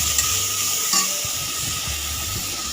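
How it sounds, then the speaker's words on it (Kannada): Ginger garlic paste frying in hot oil in a pan, giving a steady, close sizzle and hiss with light stirring scrapes throughout. "ಅದನ್ನು ಹಾಕಿ ಫ್ರೈ ಮಾಡ್ತಾಯಿದ್ದೀನಿ."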